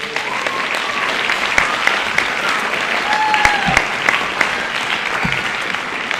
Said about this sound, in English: So a huge round of applause for our high school Tri-M students.